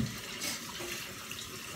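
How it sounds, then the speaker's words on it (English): Water runs steadily from a kitchen tap over fingers being rinsed, a continuous close hiss of flow with no talk over it. "Get the rinse going. Rinse my fingers off."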